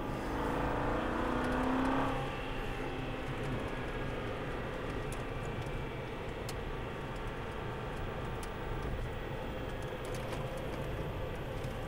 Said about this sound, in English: Get ready to accelerate as soon as you start to straighten the wheel.